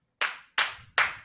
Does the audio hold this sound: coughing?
no